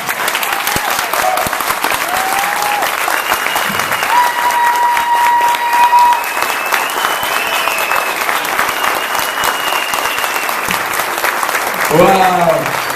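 An audience at an evening event in Elgin gives loud, sustained applause for a doctor and his wife Marta, many hands clapping continuously with scattered cheers and voices over the crowd.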